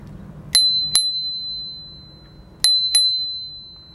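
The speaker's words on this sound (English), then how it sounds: "Here's your little bell." Small bell on a Mustang Oscar Dutch-style city bike rung in two pairs of bright, clear dings that ring on, close and loud.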